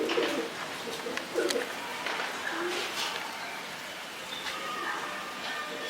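Pigeons coo softly over a steady background hum, with occasional brief bird calls mixed in; the cooing comes in short low bursts.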